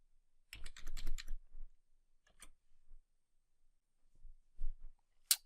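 Typing on a computer keyboard while entering a command in PowerShell, a quick burst of close, crisp key taps followed by a few scattered keystrokes and a final click, with no talking.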